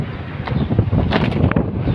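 Strong amihan monsoon wind blowing along a fishing coast, roaring and buffeting the microphone in a continuous gusty rush, with a few brief higher flutters.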